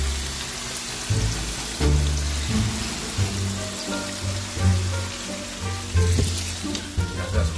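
A steak fries in a pan with a loud, steady sizzle and crackle close up, with occasional clunks of cookware and no talk.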